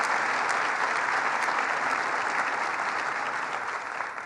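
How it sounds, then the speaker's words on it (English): Dense, steady audience applause at a press event with the New York governor, continuous and close for about four seconds and tapering slightly at the end. "please, let's give a round of applause for them."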